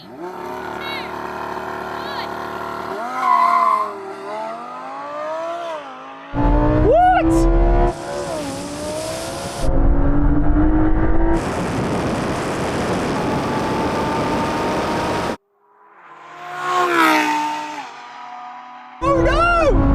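Lamborghini Huracán Sterrato and Porsche 911 Dakar at a drag race launch: engines rev and roar in loud bursts, rising in pitch through gears, with sharp cutoffs, quieter stretches and a final surge of acceleration.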